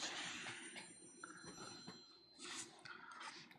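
A telephone rings and is left to go to voicemail. The bright repeated ring tones come in bursts and sound faint and somewhat distant, with room noise around them.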